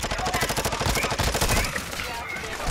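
Gunfire in the video game Call of Duty: Modern Warfare II, with sustained rapid automatic bursts crackling loudly and densely throughout, easing slightly near the end.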